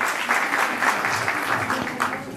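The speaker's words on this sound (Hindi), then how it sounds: "तो बच्चों में मुशाहिद खान सर की जोरदार तालियां हो जाए" A short burst of audience clapping for a guest speaker at a children's event, moderately loud and steady across the brief span.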